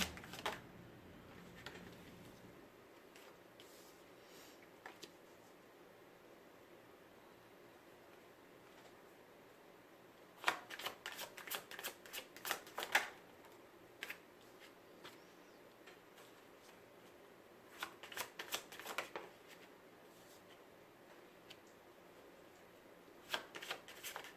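Tarot cards being shuffled by hand nearby, with faint quiet passages broken by several short riffling bursts of card flicks.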